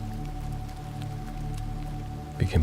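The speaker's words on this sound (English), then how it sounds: "Now we can bump up the rain sound." Rain sound effect layered into a live sound healing flute session: a soft, steady patter runs under a sustained tonal drone, with a brief louder burst near the end.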